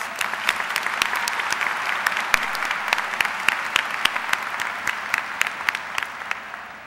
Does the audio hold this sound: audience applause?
yes